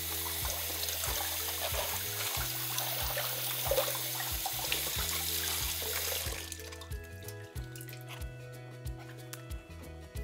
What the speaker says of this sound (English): before thoroughly rinsing the leaves under running water